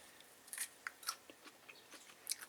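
Raw zucchini bitten and chewed up close, a series of crisp, wet crunches in an irregular rhythm, quiet and alone with no talking.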